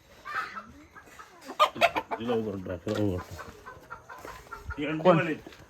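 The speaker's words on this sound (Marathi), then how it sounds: "एकदम हँडसम दिसतोय कोंबडा आहे" A rooster in a Konkan village clucks close by in several short, uneven bursts, with a person talking softly in the background.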